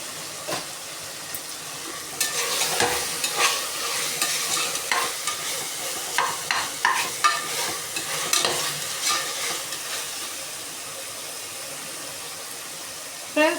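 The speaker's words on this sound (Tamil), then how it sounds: "கருவேப்பிலை, கொத்தமல்லி எல்லாமே போட்டுட்டு நல்லா மொத்தமாக வதக்கிக்கோங்க." Mint, curry leaves and coriander sautéing in a pot for mushroom biryani, a hissing sizzle with repeated rhythmic scraping as a spoon stirs the leaves, fairly close and loud.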